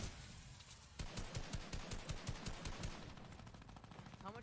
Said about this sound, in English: Really, a lot of shots coming in here to try and get a pickup kill